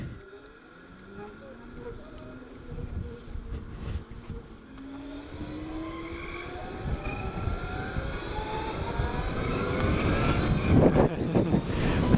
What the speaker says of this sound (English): The sound of a group of zero bikes taking off in relative silence.